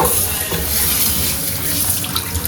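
Water splashes and pours steadily while an aquarium tank is being cleaned, a continuous close rushing wash with no speech over it.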